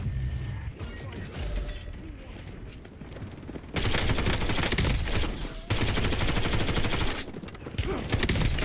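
Dense automatic gunfire rattles in the Call of Duty Warzone video game, loud sustained bursts broken by brief gaps, with quieter game effects in between.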